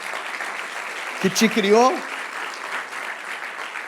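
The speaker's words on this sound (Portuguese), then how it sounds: "Você pode dar uma salva de palmas ao seu Deus?" A church congregation claps in a broad, diffuse wash of applause that stays steady under a preacher's amplified voice.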